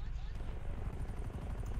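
A helicopter in the game GTA 5 gives a steady low rotor thrum and engine drone, loud and continuous throughout.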